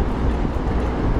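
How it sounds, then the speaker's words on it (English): A train passing on a railway in Japan, a loud, continuous close rumble of wheels and cars rolling by without pause. "Okay, train coming."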